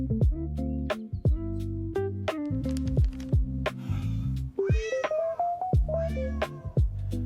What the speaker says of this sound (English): He lets out a tiny, hoarse meow